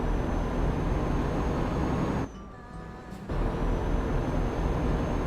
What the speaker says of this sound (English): This truck is pretty loud.